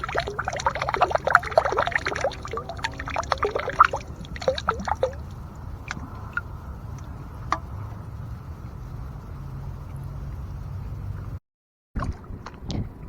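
Water swishes and sloshes inside a washed-up can being cleaned out on a lake, with splashy, irregular pouring bursts for about four seconds before fading to quiet ambient background.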